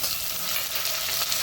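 Peas added to a pan of vegetable khichdi sizzle and fry with a steady, bright hiss and light stirring, close up and continuous.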